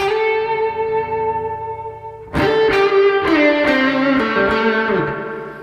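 A distorted electric guitar plays a blues lick: a sustained held note, then a run of sharply picked notes bending downward, with heavy overdrive.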